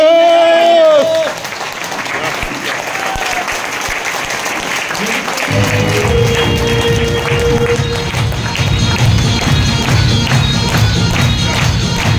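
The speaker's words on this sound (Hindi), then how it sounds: "हाथ खड़े करके ताली बजानी चाहिए" Large hall audience in Jabalpur bursts into sustained applause with hands raised, a dense steady wash of clapping lasting several seconds after a brief spoken lead-in.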